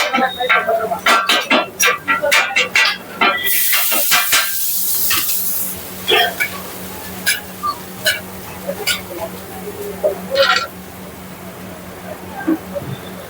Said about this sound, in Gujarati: બને છે ઢોસા ફ્રાય.